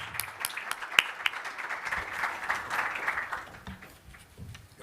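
A conference audience applauds a guest speaker, a federal deputy, with a crowd of steady, overlapping hand claps at moderate loudness that slowly thin out over a few seconds.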